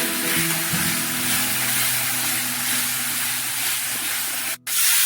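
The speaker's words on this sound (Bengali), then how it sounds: "আবার একটু করে জল দিয়ে আবার ভালো করে কষিয়ে নিচ্ছি" Soya chunk kofta masala sizzles and hisses in a pan after a splash of water is added, a steady close steamy frying sound with a brief dropout near the end.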